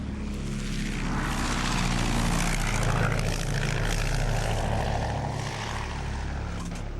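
A World War One propeller biplane taxis and then takes off, its piston engine giving a loud, continuous droning roar that swells in the middle and stays close and steady throughout, with no talking.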